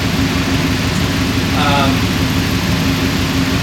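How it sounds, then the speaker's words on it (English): A 2003 Subaru WRX engine, recently rebuilt after a passenger-side manifold leak, idles at a steady low rumble nearby, with a person talking over it. "the idle's really smooth, a lot smoother than it was"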